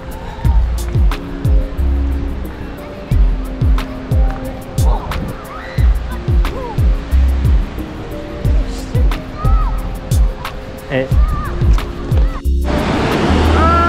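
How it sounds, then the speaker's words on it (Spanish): Waves wash onto La Concha beach in San Sebastian, a steady surf roar overlaid by a regular series of low thumping pulses, with a burst of rushing noise near the end. "Vamos a mojarnos los pies en la playa de la Concha"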